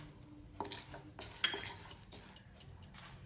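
Urad dal roasting in a pan for elluothari, stirred with a metal spoon that gives a few close clinks and scrapes against the pan over a quiet background.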